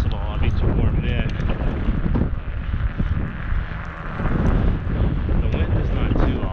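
Strong wind buffets the microphone outdoors on a sidewalk in sleet: a loud, continuous roaring rumble that swells and eases without letup.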